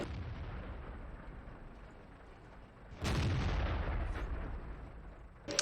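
Tank gunfire in the World of Tanks video game, with a loud booming shot that erupts suddenly and rumbles on, then a second sharp report near the end over a low steady background.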